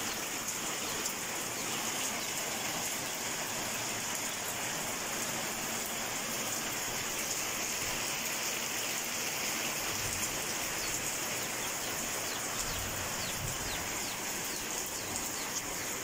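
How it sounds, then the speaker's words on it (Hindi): Heavy storm rain pours steadily onto a rooftop, a dense constant hiss filling the whole stretch, with faint bird calls in the background. "दोस्तों बारिश तो रुकने का नाम नहीं ले रही, तेज से तेज होती जा रही है।"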